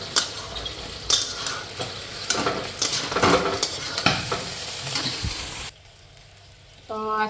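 Egg frying in a small kadai, sizzling steadily under repeated scraping and clinking of a stirring spoon, close and fairly loud, then stopping abruptly into near silence before a short electronic beeping at the end.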